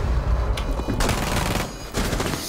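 Bursts of gunfire in Rainbow Six Siege during a bomb defuser round, loud near volleys from about one second onward with brief gaps, and no talk over it.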